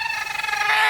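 A brooding hen sitting on eggs in a village nest gives a continuous, loud, tense vocal sound up close, a steady harsh call lasting under a second.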